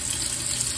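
Old mason jars are rinsed under a running kitchen tap, giving a steady, close hiss of flowing water that splashes continuously without pause.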